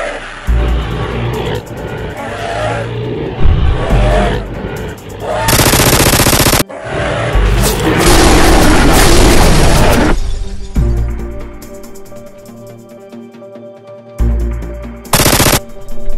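Gunfire sound effects in a staged Nerf gun battle against a worm monster: loud rapid machine-gun bursts, booms and shattering crashes in dense, overlapping blasts with brief pauses between volleys.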